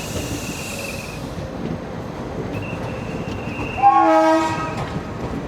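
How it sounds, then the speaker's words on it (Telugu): An old diesel locomotive hauls a train in reverse at a station on a journey to Tirupati, with a steady rumble of rolling stock and a loud horn blast near the end, heard from close by. "అక్కడ ఓల్డ్ డీజిల్ లోకోమోటివ్. రివర్స్ వస్తుంది ట్రైన్."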